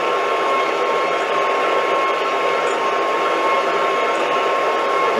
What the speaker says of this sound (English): The feed is 100 millimeters a minute, and the cutter is running 1000 RPM.